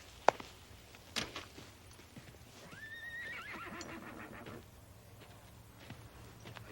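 A young, green horse lets out a loud whinny that rises and wavers for about a second, with hoof clops and a sharp knock before it and quieter stable noise after.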